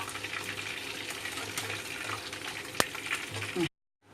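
Prawns frying in a pan for a Konkani-style jhinga fry, giving a steady close sizzle and bubbling hiss for about four seconds, with one brief sharp clink of a utensil near the end before it cuts to silence.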